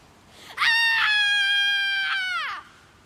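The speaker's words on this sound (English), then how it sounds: "We could scream right now and no one would stop us." A long, loud sustained scream from a young girl, a single high harmonic cry of about two seconds rising sharply, holding steady and then falling away.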